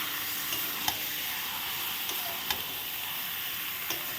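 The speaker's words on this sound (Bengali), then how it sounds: "নেড়ে নিচ্ছি" Chicken meat fries in a pan with a continuous close sizzle, broken by a few light scraping taps as it is stirred at irregular intervals.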